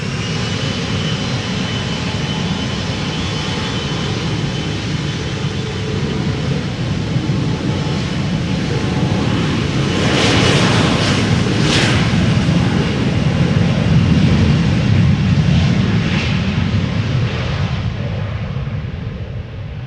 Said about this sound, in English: Now, Embraer 175 to Birmingham up next.